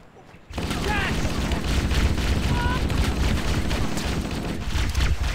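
Sustained gunfire from Halo: The Master Chief Collection kicks in after a short quiet opening and continues as a dense, loud volley of rapid shots with explosions over battle noise.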